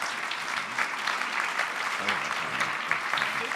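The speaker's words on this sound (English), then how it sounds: "Let's give them a round of applause." A conference audience at an entrepreneurs' dialogue breaks into a sustained round of applause, dense and steady throughout, with many hands clapping at once in a large hall.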